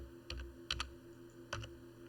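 Keystrokes on a computer keyboard entering a formula in Excel: three short bursts of two or three clicks each, close and fairly quiet, with pauses between them and no talk.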